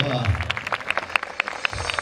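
At a toro piscine show in Moliets, the crowd gives scattered, fairly rhythmic claps for the rescue team, distinct sharp hits over a background of voices.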